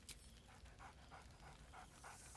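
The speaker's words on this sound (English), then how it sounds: "Scratch barks merrily in something like agreement." Scratch, the dog companion in Baldur's Gate 3, pants in a steady rhythmic series of breathy puffs at close range, with a sharp yelp at the start and another rising sound at the end.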